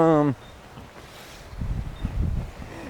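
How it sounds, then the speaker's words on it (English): Wind gusting outdoors during a hunt, as low rumbling buffets against the microphone that grow stronger after a brief voice at the start. "the wind's getting up"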